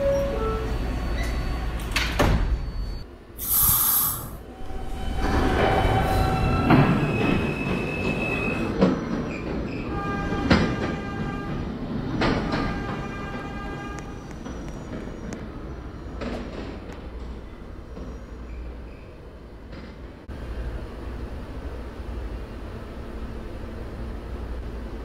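A New York subway E train on R160 cars departs a station, rumbling and squealing along the rails, loud and close, with a door-chime tone and clanks before the rolling noise fades toward the end.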